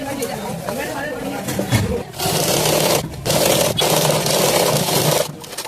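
A sewing machine stitches a school coat jacket in loud, close runs of rapid, buzzing clatter. The runs are broken by short pauses, with several bursts of steady stitching in a row.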